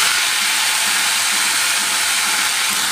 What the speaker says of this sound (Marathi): तेल तापलं की त्याच्यामध्ये टाकायचं आहे हिंग आणि स्वच्छ धुतलेली मेथीची भाजी